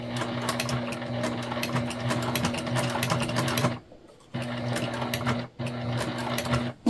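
A sewing machine runs in steady bursts while backstitching seams on a beginner fabric bag, with a continuous loud hum that stops briefly twice, near and alone without talk.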